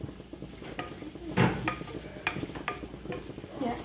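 Bacon and calabresa sausage frying together in a pot alongside carne de sol, heard as soft spattering under sharp metallic clanks and scrapes of a utensil against the pot, close by.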